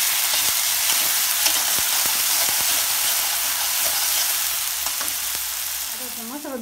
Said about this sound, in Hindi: अब हम इसमें अदरक लहसुन का पेस्ट डाल देंगे।